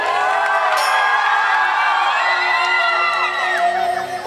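A crowd at a Sambalpuri song performance ululates and cheers, a dense wall of high, wavering voices sustained loudly throughout.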